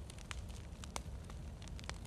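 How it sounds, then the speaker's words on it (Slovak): Crackling campfire in the survival video game DayZ, a steady low rumble with scattered sharp pops and snaps throughout, fairly quiet and heard alone. "Tam je oheň."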